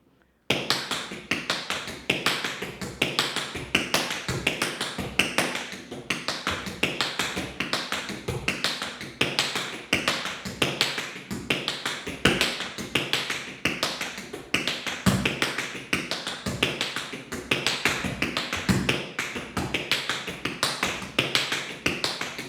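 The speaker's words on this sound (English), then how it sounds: "I'm going to roll them now, starting on my right with a heel dig and moving right into my left side." Rapid tap dance paddle and rolls with heel digs, steady streams of crisp shoe taps on a hard floor in fast continuous rhythm, close and clear with no talking.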